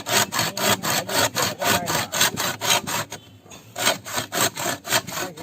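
Bamboo being hand-sawn to size for cooking rabbit biryani inside bamboo in a village setting, heard as steady rhythmic back-and-forth saw strokes, close and loud, with a brief pause near the middle.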